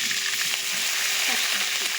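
Cumin seeds and curry leaves sizzle in hot oil for a stuffed brinjal curry, a steady close crackle with a faint spluttering hiss throughout and no voices.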